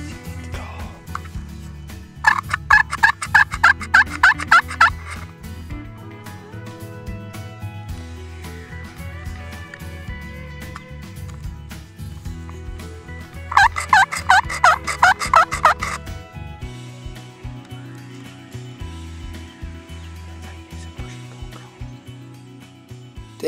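Push-and-pull turkey call imitating a gobble: two loud rapid rattling bursts of about two seconds each, roughly ten seconds apart, over a low steady background.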